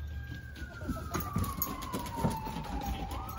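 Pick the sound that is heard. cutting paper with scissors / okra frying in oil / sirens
sirens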